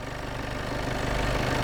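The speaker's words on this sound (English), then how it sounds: "Has a 2-litre turbo diesel 4-cylinder engine" A 2019 Volkswagen Passat Estate 2.0 TDI GT with a four-cylinder turbo diesel engine idles close by, giving a short, steady, low rumbling clatter.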